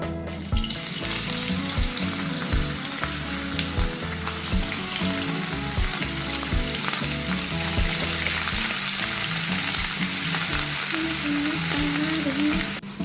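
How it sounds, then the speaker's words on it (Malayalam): Cut sausage pieces fry in hot oil with a constant bright sizzle and occasional stirring, close and steady throughout, under light background music. "അതിലേക്ക് നമ്മൾ കട്ട് ചെയ്ത് വെച്ചിരിക്കുന്ന സോസേജുകൾ ഇട്ട് കൊടുക്കാം."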